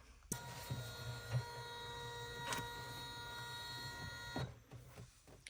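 An embroidery machine stitching a front-zipper stadium bag in the hoop whirs steadily with a tonal motor hum and rapid needle rhythm, running continuously for several seconds before stopping near the end.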